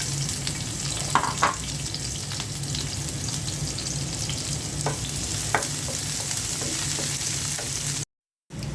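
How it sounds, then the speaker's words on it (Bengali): Chopped onion sizzles steadily in hot oil in a pan for a home-style Bengali fish curry, a continuous frying hiss with a few brief stirring clinks, then a short silence near the end. "তেল দিয়ে দিয়েছি। এখন পেঁয়াজ কুচি দিয়ে দিচ্ছি।"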